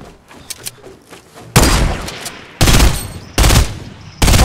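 Fortnite gunfire: four loud, sharp bursts of shots spaced roughly a second apart. Quieter clicks and ambient game noise come before them. The last burst is the headshot.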